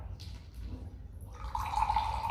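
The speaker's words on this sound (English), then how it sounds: "Here you can see the water is coming from the straw." Water escapes through a straw from a bottle capped with an air-filled balloon during an air pressure experiment, a faint trickle and drip that swells into a steadier running stream after a quiet start.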